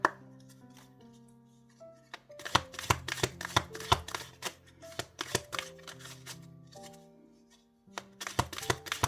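Tarot cards shuffled by hand, with a run of quick riffling bursts and soft slaps of the deck, close and fairly loud over a sustained soft musical tone, with no talk.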